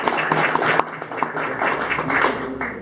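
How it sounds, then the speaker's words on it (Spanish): A short burst of audience clapping at a medical talk on probiotics in newborns, moderately loud with scattered individual claps rather than a dense ovation. "les pido un fuerte aplauso para el doctor Carlos."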